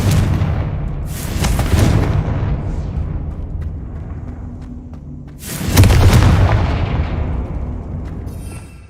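Two heavy booming blasts of the Confringo fire spell in Hogwarts Legacy, each a loud sudden burst trailing into a rumbling decay, separated by a few seconds of quieter ambience.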